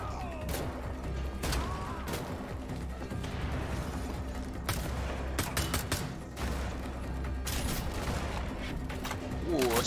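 Gunfire in the video game Wolfenstein The Old Blood, with repeated sharp shot bursts and clatter over a busy game soundscape, while a player talks over it.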